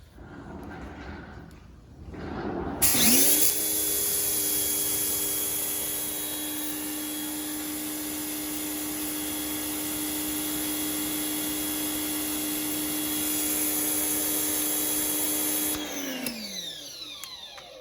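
A Harbor Freight Portland 1750 pressure washer sprays through a 3.5 orifice, 40 degree nozzle with a loud, steady motor-pump drone and hiss. It kicks in after a brief lower-level start, holds evenly for about thirteen seconds, then winds down.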